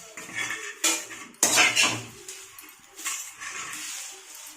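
Dry roasted curry leaves rustle and scrape as they are moved from a metal pan into another vessel. Bursts of crisp clatter and scraping come close and fairly loud, separated by short pauses.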